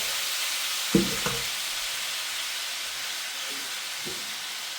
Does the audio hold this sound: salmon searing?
yes